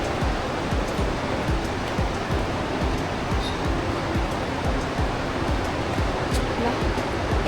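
Broad, steady rush of a flowing river in the Chobhar area of Nepal, continuous and close without clear talk.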